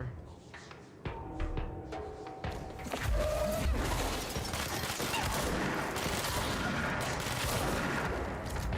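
Enemy gunfire in the game Control, a dense barrage of shots and impacts that starts sparse and becomes a loud, continuous fusillade for most of the clip, with crashing debris and a voice murmuring underneath.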